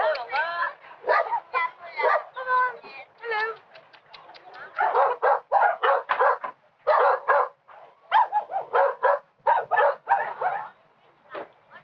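A dog barks and yips repeatedly in quick bursts, close by near a kennel, with short pauses between clusters of barks.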